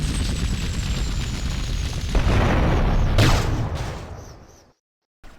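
Rocket explosions during a Grand Theft Auto mission boom in a deep rumbling roar with a sharper blast midway, then cut abruptly to silence before a brief final thump.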